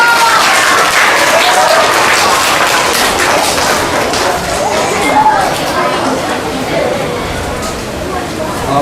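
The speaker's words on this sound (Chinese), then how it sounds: "我们热烈掌声欢迎徐正伟徐老师" An audience at a fifth-grade project presentation competition at Shimen Elementary School in Taoyuan claps steadily to welcome a judge, a dense, even wash of applause filling the whole stretch.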